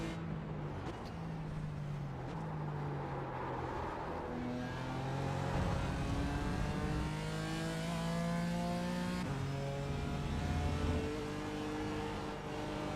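A race car engine in a racing video game revs up and down through gear changes, its pitch climbing and dropping repeatedly in a steady, continuous drone with no talk.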